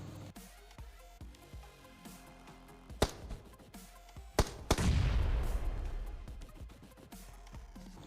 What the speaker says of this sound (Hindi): अब आप देखो भाई का एक प्यारा सा ग्रेनेड।